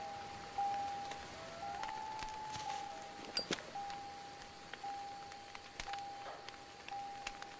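Rain falls steadily in the video game Deadly Premonition, a faint, even patter with scattered drips, while a thin tone sounds intermittently in the background.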